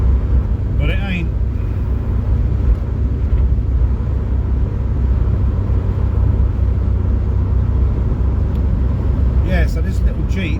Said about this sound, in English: this little Jeep gets a bit beaten up in traffic because, you know, it's not very quick